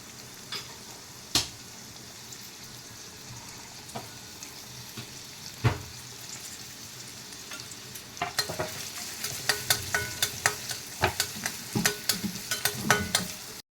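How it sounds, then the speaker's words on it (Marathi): Onion frying in hot oil in a kadhai on a gas stove gives a steady sizzle, with sharper crackles and scraping stirs building toward the end; no one speaks. "तेल तापलेलं आहे त्याच्यामध्ये आपण कांदा घालायचा आहे"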